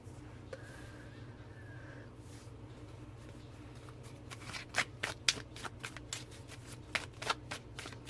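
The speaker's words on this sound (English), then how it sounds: "I don't turn my cards over until I pull out all the cards for the spread." A deck of tarot cards is shuffled by hand for a spread, giving soft riffling and sliding passes that grow into a run of sharp, rapid card snaps near the end, heard close and alone.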